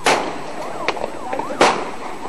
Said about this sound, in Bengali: মিছিল থেকে কয়েকটি ককটেলের বিস্ফোরণ ঘটায় শিবির কর্মীরা